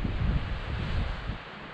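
Low, blustery wind on a mountainside in the Mojave buffeting the microphone in a steady rumble, easing slightly toward the end, with no voices.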